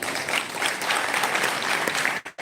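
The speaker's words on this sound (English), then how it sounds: "Another round of applause." An audience at a football club's annual delegates assembly applauds, a dense, steady patter of clapping at moderate level that cuts off abruptly at the end.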